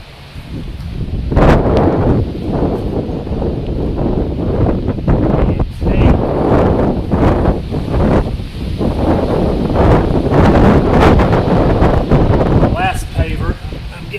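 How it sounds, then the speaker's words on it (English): Strong outdoor wind buffets the microphone in a garden while plants are being covered against frost, producing loud, continuous rumbling gusts throughout, with a person talking underneath. "The wind's not helping me either."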